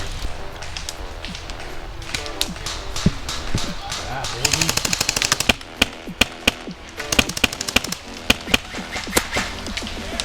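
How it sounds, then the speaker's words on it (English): Airsoft guns shooting outdoors near a church, with rapid bursts of sharp cracking shots and single pops scattered throughout, some near and loud, while players talk over the firing. "There's a guy in church window shooting."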